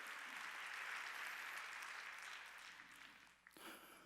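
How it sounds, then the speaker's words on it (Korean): A church congregation at a Korean Wednesday worship service breaks into sustained applause, a dense wash of clapping that fades out toward the end. "박수로 하나님께 영광을 돌려야 될 거 아니야"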